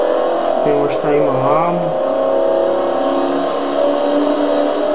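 A Ford Mustang's engine revs and drones steadily in a Forza Horizon racing game on Xbox 360, continuous and close, with someone talking over it briefly near the start.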